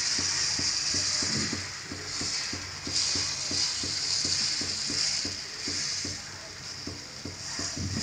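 Besan (gram flour) batter sizzles on a hot oiled pan as it is spread in circles, a steady close frying hiss with rhythmic scraping taps from the spreading, and no talk.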